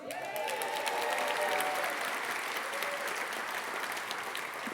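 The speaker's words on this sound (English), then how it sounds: "I don't want anybody to say that she got more applause than the governor" Audience applause greets the Lieutenant Governor at a county address, a broad even patter of many hands from a large hall, fairly distant and steady for several seconds, with a faint voice early on.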